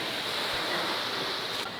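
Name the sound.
ocean waves on a beach, Cinque Terre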